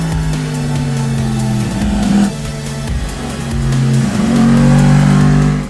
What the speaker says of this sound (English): a 1000cc cross-plane crank motor that sounds and feels and looks like a V4